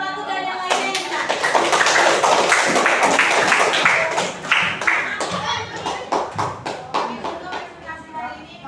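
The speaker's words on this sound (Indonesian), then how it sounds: "Kita berikan aplaus tepuk tangan untuk kelompok 1 dan yang lainnya yang benar" A classroom of students claps hands together, a dense round of applause that breaks into looser, scattered claps toward the end, with voices talking over it.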